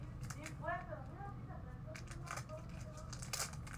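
Hands open a Pokémon trading card package with short bursts of crinkling and tearing foil wrapper, close and fairly quiet, while a person talks over it.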